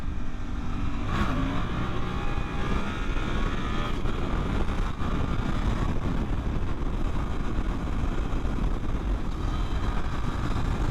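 A 2024 Suzuki GSX-8R motorcycle ridden on the road in second gear gives a loud, steady engine drone with heavy wind rush throughout, close and continuous with no talk.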